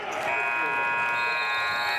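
A loud, sustained electronic buzzer sounds at the end of a quarter in a high school basketball game between Corner Canyon and Box Elder, held over arena noise while an announcer talks.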